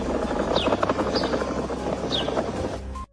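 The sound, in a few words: ground groaning underground at Yellowstone, like a helicopter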